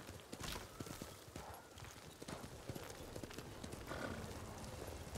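Steady clip-clop of horse hooves walking at an even pace in the video game Ghost of Tsushima, fairly close, with a busy ambient background and no talking.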